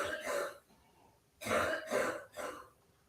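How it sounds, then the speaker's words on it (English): Deep, heavy coughing and throat clearing from someone in the background, in several rough bursts separated by short pauses. "That's a deep ass cough, dude."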